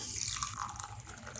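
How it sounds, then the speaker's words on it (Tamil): Water poured into a glass in a home kitchen while making oats with flaxseed and chia seeds, a steady splashing trickle that stays close and even for a moment, with no talking. "இப்போ நம்ம ஒரு கிளாஸ் தண்ணி ஊற்ற போகிறோம்."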